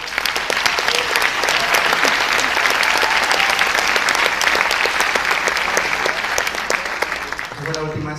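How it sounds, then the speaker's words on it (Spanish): Loud, sustained applause from a large crowd at a comedy show in Peru, dense clapping that carries on steadily before tapering off at the end. "Denle un fuerte aplauso por ellos."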